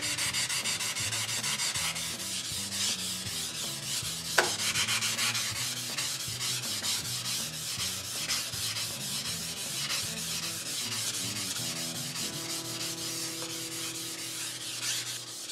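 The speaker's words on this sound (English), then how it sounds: "when you rub out a dark spot, you're going to see it go away" Steady rubbing and scrubbing on a cast iron surface to remove light surface rust, a close, continuous abrasive scraping in a repeating back-and-forth rhythm, without speech.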